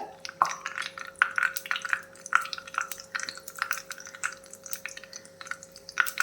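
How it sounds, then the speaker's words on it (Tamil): Fenugreek seeds crackle and pop in hot oil on a low flame. Irregular sizzling ticks and small bursts sound close and fairly quiet over a steady background hum, with no one talking. "வெந்தயம் விட்டு பொரியட்டும்"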